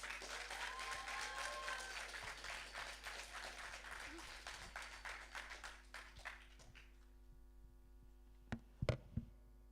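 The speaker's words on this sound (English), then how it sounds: "So can we give her a bigger round of applause for encouragement for this?" A crowd at a London talent show applauds with steady clapping that gradually fades and gives way to a quiet room with a low hum and a few stray thumps at the end.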